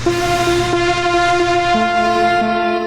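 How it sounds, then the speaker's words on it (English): A synth lead patch from an OP-1 plays sustained, harmonically rich tones that shift pitch partway through, steady and fairly loud with no voices. "just to have kind of like a lead sound, there was a section. I have this OP1 patch here."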